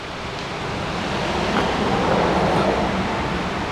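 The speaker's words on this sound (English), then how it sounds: "the wind just started to pick up" Strong autumn wind storm on the Gulf Islands, with gusts roaring through arbutus trees near the ocean; a steady, broad rushing that swells slightly midway and stays loud and continuous throughout, with no talking.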